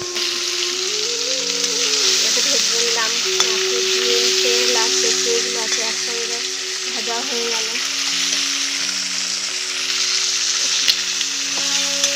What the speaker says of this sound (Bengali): বাদ বাকি তেলটা আছে ওটা দিয়ে ভেজে নিই